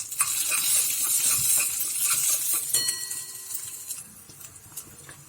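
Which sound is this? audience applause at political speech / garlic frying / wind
garlic frying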